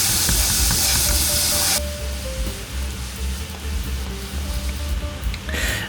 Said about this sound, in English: in goes the beef, and that's the sound you want to hear when you want to stir fry beef in like a Chinese style